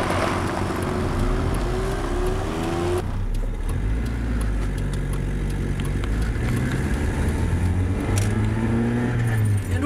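A Mazda Miata pulls away from the start point in a road challenge against a 4x4, its engine note rising through steady gear pulls beneath continuous road and wind roar, heard close from inside the car.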